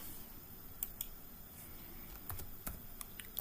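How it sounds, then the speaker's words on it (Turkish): Scattered clicks and taps on a computer keyboard as student names are typed into a poll in MS Teams, irregular keystrokes, quiet and close, with no speech. "öğrencilerin isimlerini yazıyorum"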